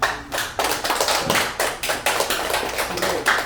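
Group of people clapping together at a gathering in a rhythmic, fairly fast and loud pattern, nearby and continuous, with the claps coming in pulsing bursts.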